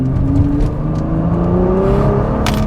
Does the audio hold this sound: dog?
no